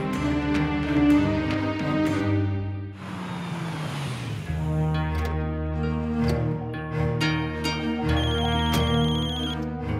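A telephone rings in a Hindi TV drama scene, its electronic ringtone sounding over a continuous musical background score with a brief rushing swell midway; no one speaks.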